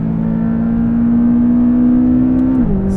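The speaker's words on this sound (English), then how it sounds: "Sounds the business in track mode. It's got the sport exhaust. Really, really loud." McLaren 570S with sport exhaust running in track mode, engine holding a loud steady high drone that drops in pitch near the end, close and alone with no talk.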